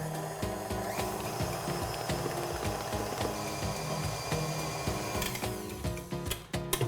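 A stand mixer with a paddle beats cupcake batter, a steady rhythmic mechanical whir with repeating knocks and clatter, close and continuous, ending in a few louder clanks.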